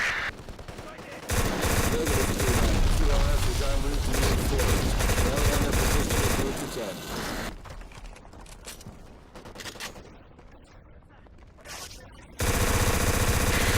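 Rapid automatic gunfire and heavy fusillades in the shooter video game Black, loud sustained bursts that break off into scattered shots, then resume abruptly at full intensity.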